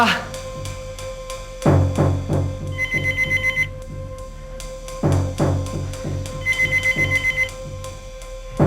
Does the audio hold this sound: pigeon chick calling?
no